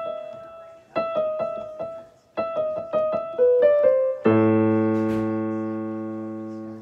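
Piano plays the opening notes of Für Elise, with a quick alternating figure of clear single notes and short pauses, then a sustained, ringing chord that slowly fades, heard alone at moderate volume.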